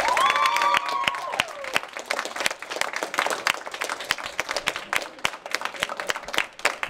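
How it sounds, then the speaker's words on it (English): A school film festival audience claps and cheers loudly for the Audience Choice winner, a dense wash of applause with a few whoops near the start, sustained throughout with no speech. "Audience Choice usually gets a loud cheer."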